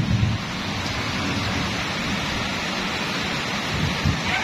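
Heavy afternoon rain pours down in a thundery downpour, a dense, steady hiss of drops drumming on surfaces with low rumbling underneath, loud and continuous with no voices.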